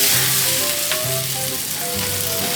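Tomatoes sizzle in hot oil in a pan for penne arrabbiata, a steady close frying crackle with faint stirring and no voices.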